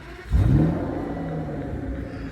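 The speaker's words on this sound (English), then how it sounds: "to start it up, you just press the key in. I'll open up the exhaust valves and it sounds absolutely menacing" A 2009 Aston Martin DBS 5.9 V12 Volante fires up with its exhaust valves open, a loud surging bark that rises quickly and then settles into a deep, steady close-up idle.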